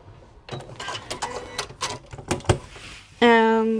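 A sewing machine stitching a bag gives a series of short, uneven mechanical clatters, then breaks into a loud, steady buzzing whir as it reverse stitches near the end.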